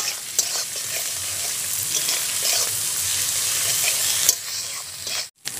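Ginger paste and chopped green chilli sizzling in frying garlic, a loud, dense hiss of hot oil broken by scraping stirs, ending in a brief sudden dropout.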